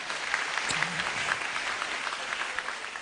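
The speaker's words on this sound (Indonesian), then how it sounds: "Boleh tepuk tangan buat Kompas TV?" Steady applause from an audience at a stand-up comedy show fills the room, dense and continuous for several seconds with no voices over it.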